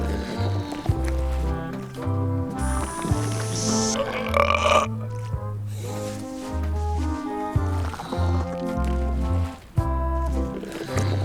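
A cartoonish burp from a burping contest in the 2022 video game Return to Monkey Island, drawn out and gurgling over roughly eleven seconds with steady tonal game sound running underneath.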